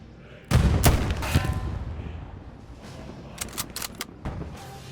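Gunfire in the World War II shooter Hell Let Loose: a loud nearby shot followed by rumbling echoes, then scattered distant cracks and pops across the battlefield.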